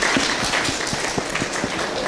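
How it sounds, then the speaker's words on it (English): Room audience giving a short round of applause during a talk on girl students' test scores, a brief steady patter of clapping with individual claps audible. "And we can take a round of applause."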